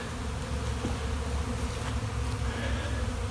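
Honey bees hum inside an open hive among brood frames, a dense, steady, close drone of many wings with no break.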